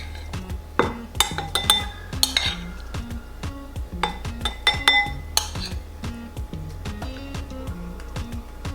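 Black beans are stirred and tipped into a bowl while assembling a homemade Chipotle-style bowl, with close clinks and knocks of a utensil against dishes in an irregular rhythm, louder at first then settling, and no talking.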